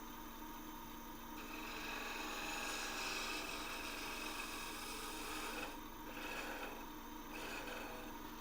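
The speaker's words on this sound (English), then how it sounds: "I think I'm going to go ahead and take care of that with a little sanding" Continuous rasping of sandpaper rubbing on wood, steady and close, with slight rhythmic variations in the strokes and no talking.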